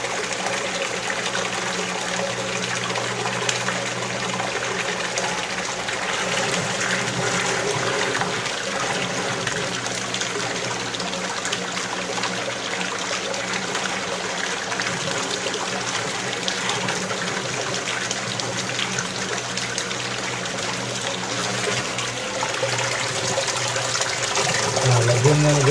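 Water gushes and churns steadily during the backwash of a double-membrane water refilling station filter, a loud continuous rushing flow with talk over it.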